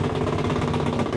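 A small wooden outrigger boat engine runs steadily on an island-hopping trip, a loud, continuous mid-pitched drone with a rough, knocking pulse and no talk over it.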